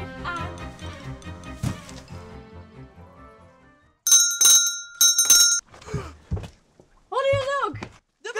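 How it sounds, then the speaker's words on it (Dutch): A bell rings several times in quick, bright bursts on 5 December 2015 in Venray, following a stretch of music. Voices talk right after it. "Ik hoor de bel ook."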